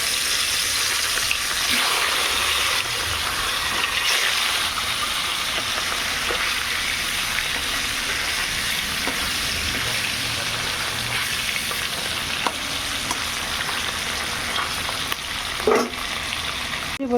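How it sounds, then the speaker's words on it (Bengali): Hilsa fish rubbed with salt and turmeric fry lightly in hot oil, giving a continuous close crackling sizzle with occasional soft clinks and no talking. "তেল চাপিয়ে দিয়েছি, আর এই যে এখানে মাছের লবণ হলুদ মাখিয়ে নিয়েছি, হালকা করে একটু ভেজে নেব মাছগুলো"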